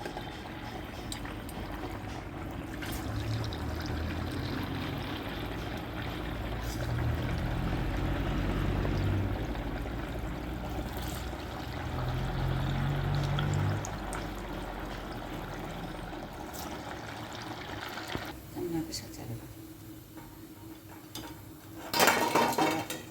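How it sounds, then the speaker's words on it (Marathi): Steady sizzling and bubbling of sabudana vada deep frying in hot oil, with occasional metal clinks of a utensil against the pan. "आता आपण तळायला सुरुवात करू."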